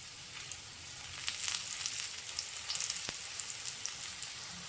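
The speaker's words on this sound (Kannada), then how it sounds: "ಈಗ ಇಷ್ಟು ಹಾಕ್ಕೊಂಡಿದ್ದೀನಿ ಒಂದು ರೌಂಡ್ಗೆ ಸ್ವಲ್ಪ ಫ್ರೈ ಆಗಲಿ" Bitter gourd pieces frying in hot oil for an Andhra-style fry, a steady close sizzle with crackling pops and spatters, no speech over it.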